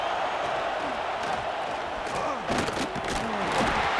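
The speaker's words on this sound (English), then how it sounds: "This crowd trying to make life miserable for this offense." A stadium crowd in the EA College Football 26 video game roars as a steady, loud wash of noise, with brief louder swells and whoops partway through.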